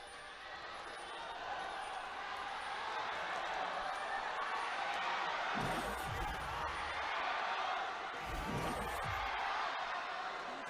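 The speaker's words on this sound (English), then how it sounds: "Everyone's just cheering for their teams at the exact same time." Arena crowd at a League of Legends esports match between KING-ZONE DragonX and Flash Wolves, a broad steady roar of cheering filling the hall, swelling twice with louder bursts, with no clear talk over it.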